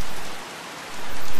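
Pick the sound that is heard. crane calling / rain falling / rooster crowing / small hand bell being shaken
rain falling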